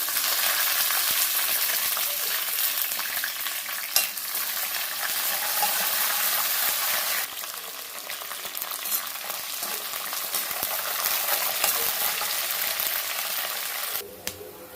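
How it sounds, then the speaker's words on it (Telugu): Cashews, peanuts and curry leaves frying in oil, a loud dense hiss that runs almost unbroken with a couple of small clinks, close up and without speech. "జీడిపప్పు అవన్నీ మంచిగా ఫ్రై అయింది కదండి"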